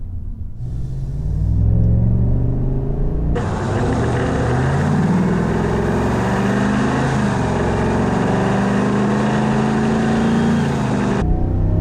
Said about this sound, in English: My exhaust tone changed more than I expected.